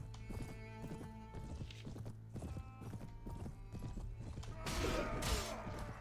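Horse hooves clip-clopping with a neigh in a medieval Game of Thrones mod battle video game, busy combat noise layered underneath.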